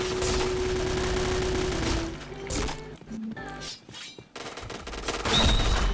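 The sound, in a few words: gunfire in video game Point Blank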